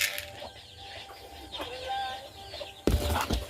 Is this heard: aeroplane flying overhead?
no